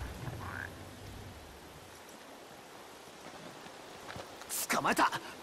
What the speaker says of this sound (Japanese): 有，这附近有声音。 但他妈我找不到青蛙